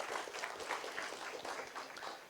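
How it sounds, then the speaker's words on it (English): An audience at a youth college talk applauds a participant, a soft, distant-sounding patter of many hands clapping at a steady pace. "Round of applause for Arya."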